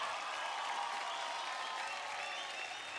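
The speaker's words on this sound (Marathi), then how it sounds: "टाळ्या होऊन जाऊ द्या" An audience on a televised dance competition show bursts into a dense, even wash of clapping that holds steady for a few seconds, with the crowd fairly close and no voices rising above it.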